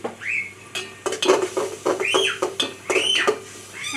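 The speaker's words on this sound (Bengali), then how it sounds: "মশলাটা ভালো করে কষিয়ে নিচ্ছি" Spice masala for biryani being sautéed in a pan, with a spatula repeatedly scraping and clinking against the metal over a soft sizzle, in short irregular bursts.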